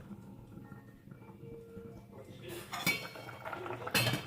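Soup for Thai guay jub noodles is ladled from a large pot, with metal clinks and knocks of the ladle against the pot rim, loudest in two sharp bursts near the end.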